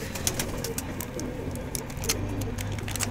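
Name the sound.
pigeons cooing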